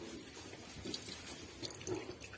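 A thin stream of water trickles and splashes steadily from a pig drinker at close range, with small irregular drips and gurgles.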